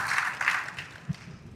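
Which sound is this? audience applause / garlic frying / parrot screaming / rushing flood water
audience applause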